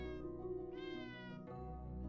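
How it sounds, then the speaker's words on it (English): Cats meowing in the video game Hidden Paws, a couple of clear, close, drawn-out meows one after another. "And now I hear kitties."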